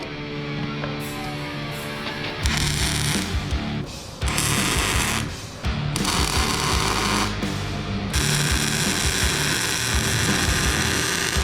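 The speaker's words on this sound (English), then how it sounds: "right now, we're just gonna weld these up" Metal parts for a massive metal rack being welded, a harsh, steady buzzing crackle in long bursts broken by brief pauses, fairly loud and with no talking.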